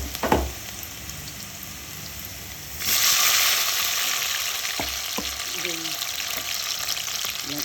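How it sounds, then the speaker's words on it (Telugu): Garlic hits hot oil in a pan on a home stove for a pickle, breaking into a steady loud sizzle after a few quiet seconds, with occasional stirring clinks and knocks. "పొయ్యి మీద నూనె వేసి ఫస్ట్ ముందుగా ఇలా వెల్లిపాయలు వేగాక"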